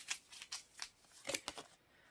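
Spirit Oracle cards being shuffled by hand in a quiet room: a series of short, crisp riffling bursts, about six close together, each a quick papery flutter with silence between, no talking.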